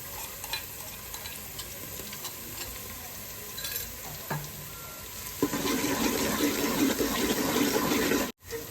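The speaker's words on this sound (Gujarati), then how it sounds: "ડુંગળી સરખી સતળાઈ ગઈ છે હવે એમાં આદુ લસણની પેસ્ટ ઉમેરી દઈશું" Onions sautéing in a pan as ginger garlic paste goes in, a steady close sizzle that swells louder and denser partway through, then cuts off abruptly near the end.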